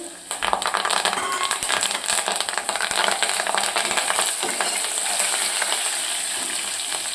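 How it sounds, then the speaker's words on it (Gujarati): Curry leaves, a dried red chili and a bay leaf hit hot oil for a traditional Gujarati moth bean curry, giving a loud, continuous close-up sizzle with occasional clinks of stirring. "હવે આપણે મીઠો લીમડો, 1 સૂકું મરચું લીધું છે અને 1 આપણે તમાલપત્ર લીધું છે, એ નાખીશું."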